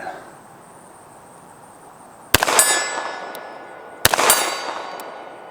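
Two sharp pistol shots from a CZ SP-01 Tactical each land with a ringing metallic clang on a steel silhouette target 60 yards away, the ring lingering after each hit, with insects chirping faintly outdoors in between.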